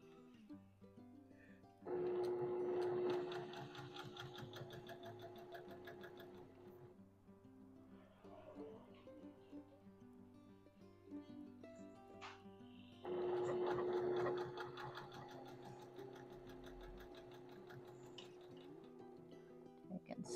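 Sewing machine stitching a quilt seam in two loud bursts of steady rapid whirring, each about two to five seconds, over a quieter background hum.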